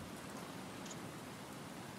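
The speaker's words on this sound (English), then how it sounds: "It's just a little bit of rain." Rain shower in the survival game Stranded Deep, a steady, dense hiss of falling rain that holds evenly and quietly throughout.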